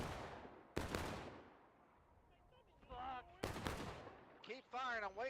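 Gunfire from the multiplayer game War of Rights: two loud, close musket-style blasts with ringing decay, separated by a quieter gap, plus whining and warbling battlefield sounds and voices in between.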